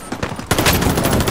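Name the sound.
heavy gunfire in the video game Call of Duty: Modern Warfare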